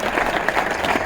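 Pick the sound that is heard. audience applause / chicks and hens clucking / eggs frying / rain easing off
audience applause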